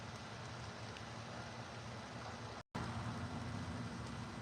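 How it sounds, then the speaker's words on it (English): Steady rain falls outdoors as a soft, even hiss that carries on throughout and is broken by one brief dropout, with no voices. "Can you guys hear the rain?"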